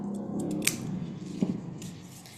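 A few quick snips of scissors cutting tape and paper while making an accordion book, close and crisp, with light paper rustling between cuts.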